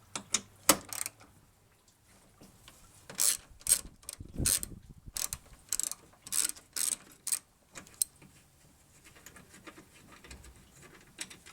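A ratchet loosens radiator bolts on a 2004 Toyota Tundra 4.7L double cab: quiet, close clicking in irregular bursts with short pauses between, alone in a quiet garage.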